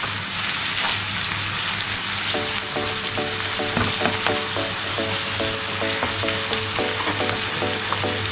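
Prawn roast frying in sunflower oil, a steady dense sizzle close up with a faint regular ticking running under it partway through.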